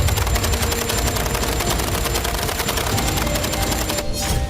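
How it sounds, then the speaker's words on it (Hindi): Heavy, continuous gunfire from both sides in the Gaza war between Israeli IDF soldiers and fighters, a dense, loud crackle of rapid shots running the whole time with no pause. "दोनों तरफ से जबरदस्त गोलीबारी हो रही है।"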